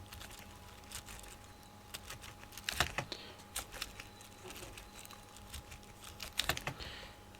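Keystrokes on a computer keyboard while writing text in Microsoft Word, faint and irregular, with a few quick bursts of clicks spread over several seconds and no talking.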